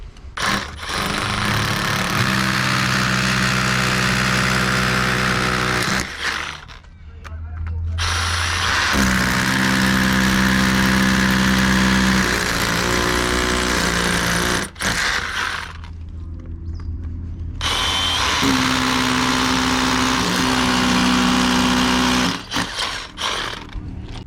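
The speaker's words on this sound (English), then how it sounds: "We can switch over to the rotary hammer drill or the SDS hammer drill and go straight through." An SDS rotary hammer drill with an 8mm bit bores into a brick wall, running in long loud bursts with a whining, rattling tone and brief pauses between passes.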